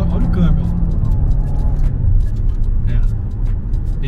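A Nissan Altima sedan with a CVT, weighing nearly two tonnes, accelerates at full throttle, heard from inside the cabin as a loud, steady low engine drone with road rumble.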